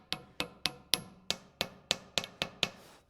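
Light hammer taps seating a part during post-lift repair work on a Challenger 2, about ten sharp, evenly spaced metallic knocks close by with no talk.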